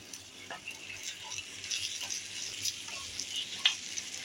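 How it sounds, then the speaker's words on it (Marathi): Green chillies with fennel powder stir-fry in a pan for dahi mirchi, a faint, steady sizzle broken by soft, scattered stirring taps, with no talking. "तर हे चांगलं आपण परत परतून घेऊया"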